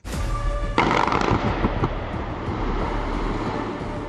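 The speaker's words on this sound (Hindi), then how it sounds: "इतनी जोर से ब्लास्ट होता है इनका" Explosive blast at an illegal mining site in the Aravalli hills: a loud, sharp boom that opens into a sustained, rumbling roar with scattered debris crackle, lingering heavily for several seconds.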